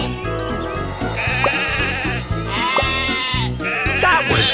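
Cartoon sheep in a Thomas and Friends kids' train game bleat in a loud, repeated series of calls over cheerful background music.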